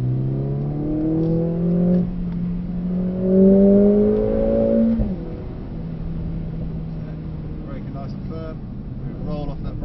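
A Mercedes-AMG 45 accelerates on the handling track at Mercedes-Benz World. Its engine note climbs steadily through two revving pulls, then drops off sharply as the driver lifts. A voice speaks over the quieter stretch that follows.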